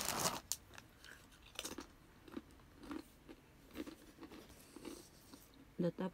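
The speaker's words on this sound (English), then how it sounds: "Look what I'm eating. Doritos." Doritos chips eaten close by, with scattered crunchy bites and chewing crackles, faint overall, while people talk.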